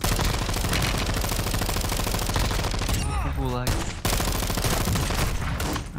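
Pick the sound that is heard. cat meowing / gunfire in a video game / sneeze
gunfire in a video game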